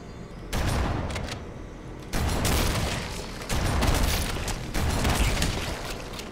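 A shotgun in Halo Anniversary fires over and over in a close, loud firefight, each blast landing at a steady pace of about one to two seconds, with other gunfire and game sounds in the background.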